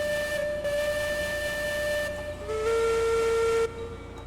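A steam locomotive whistle in the video game Railroads Online sounds as two long, loud, sustained chime blasts, the second lower in pitch, with no talking.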